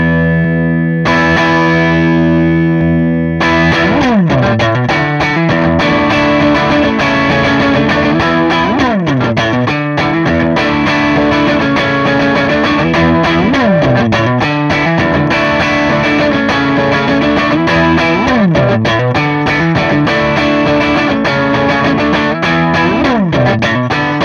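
Electric guitar through a Yerasov British Citrus BC-5 preamp on a lightly overdriven, low-gain setting plays chords and riffs continuously, loud and close, with no talking.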